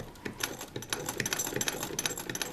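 A sewing machine stitches the seam of a throw pillow at normal stitch length, giving a steady, busy mechanical chatter that is close and fairly quiet, with no voices.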